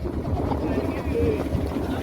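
A passenger boat on the river at Kashi gives a steady low engine and water rumble, with wind buffeting the microphone throughout this short stretch.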